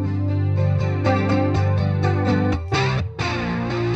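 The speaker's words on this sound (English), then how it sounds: "its crystal clean sound and built-in stereo, reverb and chorus effects" Electric guitar played through a Roland JC-22 Jazz Chorus amplifier with its built-in chorus effect on, a steady run of shimmering strummed chords and notes that rings on continuously, with a brief dip near the end.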